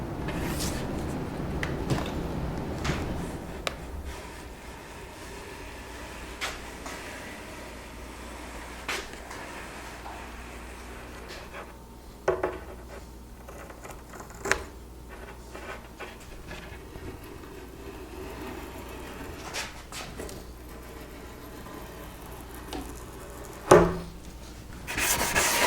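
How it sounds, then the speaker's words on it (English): Edge banding being applied to wooden sub-assemblies of a mobile tool cart, a steady close rubbing and scraping texture with occasional sharp knocks and taps. "I'm going to take this opportunity to put some edge banding on the areas where it's needed"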